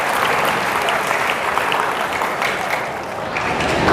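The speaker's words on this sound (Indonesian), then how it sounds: "tepuk tangan buat teman kalian" A classroom of students claps steadily for a classmate, a dense, continuous round of applause lasting the whole clip at close range.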